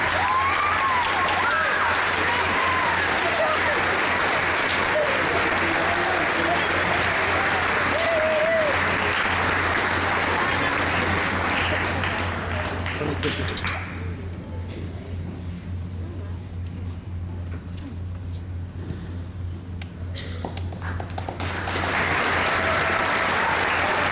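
Continuous applause from a school concert audience greets orchestra students at Martino Jr High's spring concert, steady and full, dipping to a lighter patter midway before swelling again, with a low steady hum underneath.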